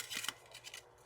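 Scissors snip quietly through a paper card frame while trimming its inside edge, a few short close cuts spaced apart, faint and alone.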